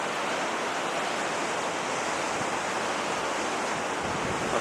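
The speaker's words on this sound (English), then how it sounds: "Some of the waves come over this top bit here." Stormy sea waves break at Hendon Beach, Sunderland, a continuous loud roar of surf and wind with no pauses, close and filling the scene, no voices.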